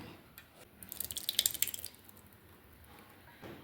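Papadum batter poured into a container, heard as a short burst of soft wet splashing and dripping that swells for about a second and then fades into quiet background, with no one speaking.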